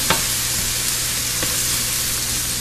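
Onions sautéing in ghee in a pan over medium heat, a loud, steady close sizzle with a couple of brief stirring scrapes.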